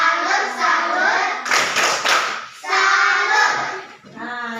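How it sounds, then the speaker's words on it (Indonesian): A classroom of children joins in a rhythmic clap to salute their classmate Nano, a burst of hand claps lasting about a second between stretches of a teacher talking. "Kita tepuk salam dulu untuk Nano."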